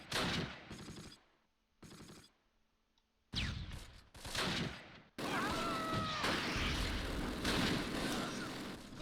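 Bursts of small-arms gunfire and explosions in the Close Combat war game, first in short separated volleys and then a sustained heavy barrage.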